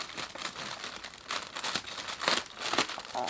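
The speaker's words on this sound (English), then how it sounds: "I really don't want to rip this open" Paper packaging ripped open by hand, a run of close crinkling and tearing rustles in quick bursts, fairly quiet and continuous over a few seconds.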